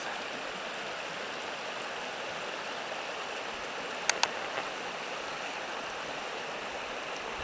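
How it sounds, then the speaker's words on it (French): A winter stream rushes steadily on a morning near freezing, a broad, even wash of flowing water with no voices and two brief faint clicks partway through. "Alors moi ça, le ruisseau."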